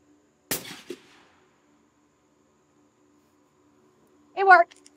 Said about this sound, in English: I'm going to shoot one more, so I can see if I can get it closer to those other two.